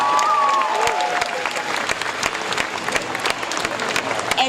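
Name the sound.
audience round of applause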